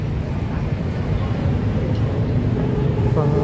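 A BTS Skytrain electric train in Bangkok rumbles steadily nearby in a loud, low, continuous roar, while someone talks over it.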